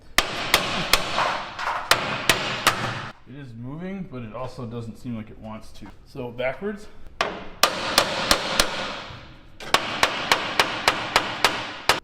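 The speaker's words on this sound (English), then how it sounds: "Yeah, we're gonna hammer it forward, okay?" Sharp metallic hammer blows on the cross member of an abandoned Ford F100 ring out in quick, loud series, pausing while a person talks in the middle, then resuming with steady repeated strikes.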